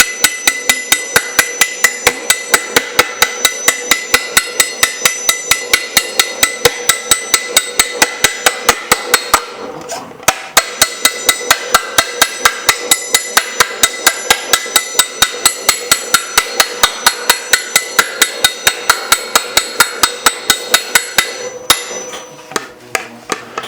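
Steady hammer blows shaping sheet metal at a metal bashing meet, harder hits concentrated in a small area while the piece is rocked; loud, evenly spaced ringing strikes close up, with a brief pause midway.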